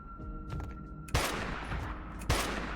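Gunfire during combat in the game Dustland Delivery, two loud sharp shots about a second apart, each with a rough trailing decay over a low steady hum, close and without talk.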